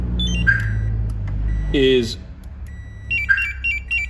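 A car remote start fob for a CMX, CM900 or CM7XXX brain gives bright short beeps signalling an open door or zone, one burst near the start and another near the end, with a voice speaking briefly between them over a low hum.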